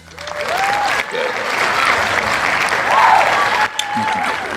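A crowd claps steadily for several seconds, a dense wash of applause with a few whoops and voices mixed in.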